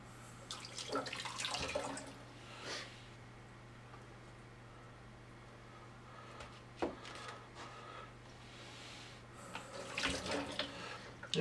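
Tap water runs onto a knife blade while slicing homemade sushi, a steady close hiss of flow in a kitchen sink with brief louder splashes and surges near the start, middle and end, no talk.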